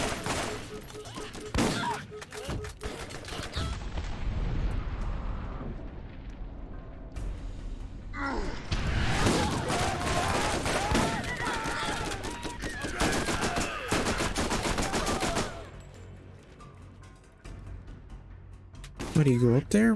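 Gunfire from a gun in the shooter game Borderlands, with rapid volleys and blasts crowding much of the stretch and a quieter gap near the end before a last burst.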